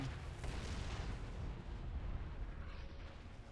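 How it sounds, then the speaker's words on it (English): Continuous rumbling artillery fire in a sci-fi trench-warfare video game, a dense, steady barrage of low booms with no clear gaps, heard from a distance throughout. "I think that's our artillery."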